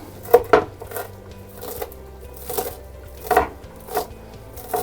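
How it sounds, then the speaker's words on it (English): A knife chops calamari on a cutting board for sautéed calamari, giving several sharp, close knocks spaced irregularly over a low background hum, with no talking. "You can see what we're doing here? Just chopping. Just chopping it up."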